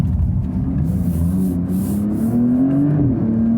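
A Porsche 911 Turbo S engine drops through the gears into a sharp corner, a deep, loud rumbling drone whose pitch slides down then climbs again, heard from inside the car.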